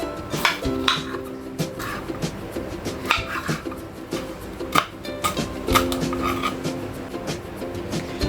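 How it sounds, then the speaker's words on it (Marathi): Capsicum being chopped with a knife on a board, heard as a run of close, sharp, irregular taps with small clatters of utensils, with no talking. "हा मी आता कापून घेते कोबीसुद्धा काढून घेऊया सिमला मिरची कापूया"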